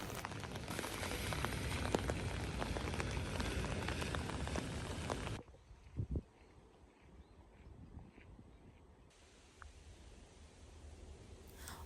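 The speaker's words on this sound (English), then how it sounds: "here are some more clips of Oslo under the rain." Rain falling in Oslo: a loud, dense outdoor wash of rainfall for about five seconds, then quieter dripping and light patter with a couple of soft thuds.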